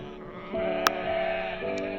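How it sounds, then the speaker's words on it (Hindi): An animated story's goat gives a single drawn-out bleat, moderately loud and close, wavering for about a second before fading. "बाकी आवाज एकदम बकरी जैसन रहे"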